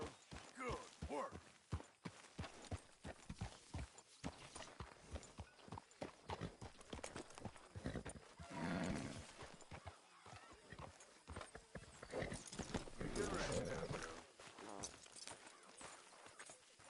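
Horse hooves clip-clopping in Red Dead Redemption II, with fairly quiet, rapid irregular hoofbeats running throughout and characters talking over them.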